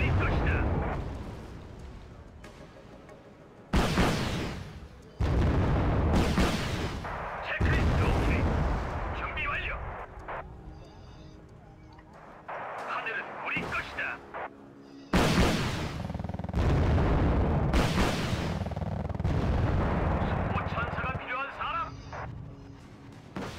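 Napalm strike in the Wargame Red Dragon battle game, heavy booming blasts and rumbling bursts arriving in several loud waves, with someone talking between and over them.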